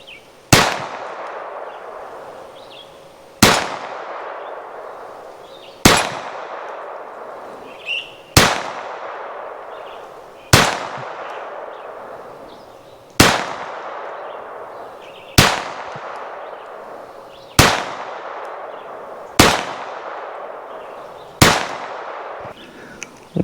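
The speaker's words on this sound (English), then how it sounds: "see how well I'm able to hit with this pistol at that distance" Ruger SR22 .22 pistol fired at a target 25 yards away: about ten sharp, loud single shots spaced a couple of seconds apart, each followed by a short ringing decay, with no talk.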